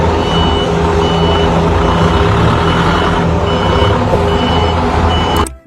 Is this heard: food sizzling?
no